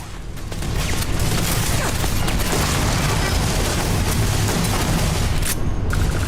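Continuous loud barrage of gunfire-like blasts and booms from laser turrets firing in the video game Starfield, dense and unbroken for several seconds with a slight lull near the end.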